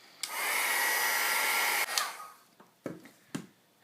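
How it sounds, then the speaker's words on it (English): A heat tool blows a steady loud whoosh for about a second and a half while drying ink on a card, then cuts off, followed by a few soft handling knocks and taps nearby. "I dried it with that heat tool to heat set the ink"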